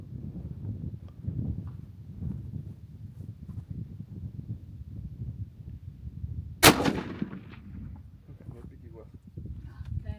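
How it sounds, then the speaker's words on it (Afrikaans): A single sharp rifle shot cracks loudly at an outdoor shooting range before a hunt at Dinokeng, standing out over steady low rumbling and wind, with people talking quietly before and after. "Right, ons het 'n paar skote geskiet hierso."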